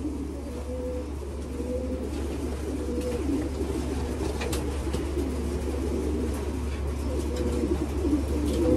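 Racing pigeons coo in a loft, with soft repeated throaty calls overlapping from several birds. A steady low hum and light rustling sit beneath them.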